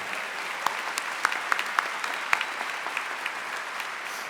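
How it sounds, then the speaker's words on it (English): A crowd applauds at a school district convocation, a steady wash of clapping with a few sharper individual claps popping out, sustained throughout without voices. "Let's give them a round of applause to recognize their support for the ISD"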